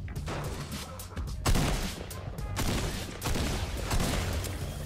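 Mounted turret gunfire in Fortnite, from a zombie rooftop run game mode, rattles in dense continuous bursts with heavy booming surges, loud and near throughout.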